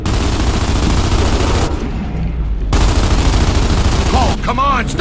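Heavy automatic gunfire rattles nonstop inside the Riftworm in Gears of War 2, a loud, dense barrage that briefly drops back before surging again, with a warbling creature-like tone near the end.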